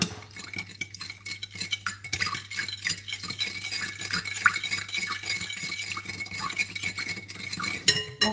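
A metal spoon stirs and clinks against a bowl while butter and salt are mixed for a meat pie crust, with steady close scraping and occasional sharper taps throughout and no talking.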